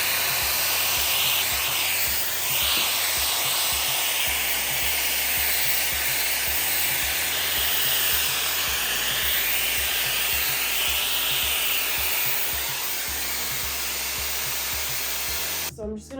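A Shark FlexStyle hair dryer blows steadily on 3C curly hair, a continuous close airflow roar lasting throughout and cutting off at the very end.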